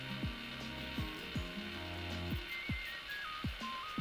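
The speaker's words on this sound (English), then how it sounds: "I'm kind of liking the mixer." A resin mixer machine runs with a steady mechanical whir while repeated sharp ratcheting clicks and descending squeaky tones recur roughly every second, with a faint rising whine above.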